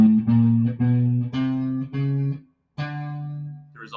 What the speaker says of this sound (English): I came to my A on the 6th string and played a lick that sounds like